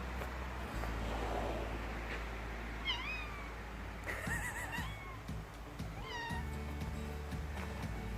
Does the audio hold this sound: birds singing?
no